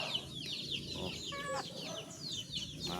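Chickens on a farm, including brood stock, cluck repeatedly at close range while feeding, the short overlapping calls coming in quick bursts over a low background.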